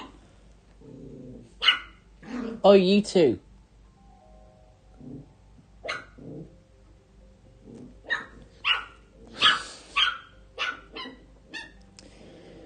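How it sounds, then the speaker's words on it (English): Two puppies bark back and forth at each other indoors, with sharp, close yips and barks in irregular bursts and a low growl between them, while a person speaks briefly. "They're just barking at each other, to be honest."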